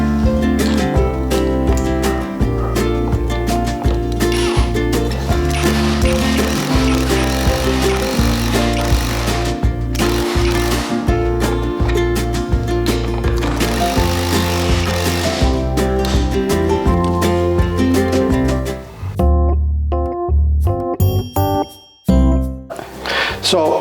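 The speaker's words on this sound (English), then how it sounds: "And now we'll go ahead and test out the driver." Power tool work on a wooden stud: an impact wrench drives a bolt into a pre-drilled hole, giving loud, dense, continuous mechanical noise for most of the span, then a brief stop-start burst near the end.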